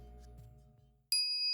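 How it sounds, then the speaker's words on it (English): A microwave oven that has just finished heating bananas sounds its chime: a low hum fades out, a brief silence follows, then a bright, loud electronic tone rings and sustains to the end. "the microwave chimes"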